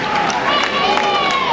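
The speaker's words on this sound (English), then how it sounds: "All right, big round of applause." An audience applauds steadily through a short burst of clapping, with voices talking over the noise.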